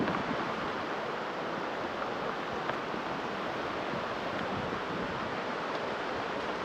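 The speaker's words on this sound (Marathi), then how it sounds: "तुम्हाला दाखवतो पुला खालून किती पाणी जात आहे" River water rushing beneath a bridge: a steady, dense, continuous roar of flowing water, fairly loud and close, with no voices over it.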